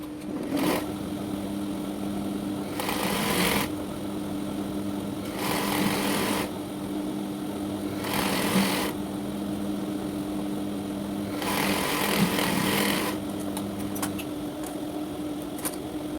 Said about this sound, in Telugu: ఈ విధంగా ఈ పైన ఎక్స్ట్రా పెంచిన క్లాత్ మీద మనకు కుట్టు రావాలి